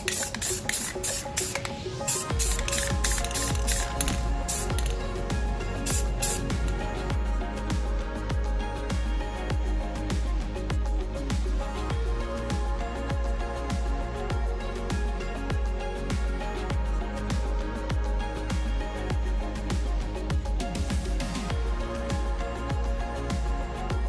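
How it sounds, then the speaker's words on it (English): An aerosol can sprays paint onto a Hot Wheels Datsun model in a steady, close, continuous hiss, with brief rattling bursts at the start before the spraying settles into even strokes. "When spray painting, I try to have nice, even strokes."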